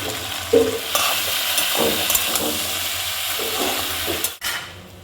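Milk poured into simmering shukto in a pan, a steady bubbling sizzle with stirring scrapes and a brief liquid splash near the start, close and continuous with no talk.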